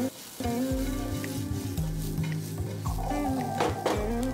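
Honey sesame prawns with spring onion and pepper are stir-fried in a hot pan, sizzling steadily while a utensil scrapes and stirs in a repeating rhythm. The frying is close and moderately loud, with no voices.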